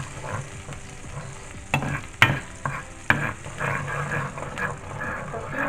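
Cumin seeds stirred with a spoon in a pot over medium heat, sizzling softly, with a few sharp scrapes and knocks against the pot spread over several seconds; no talking.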